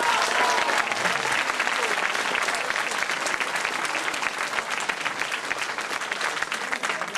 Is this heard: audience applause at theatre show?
yes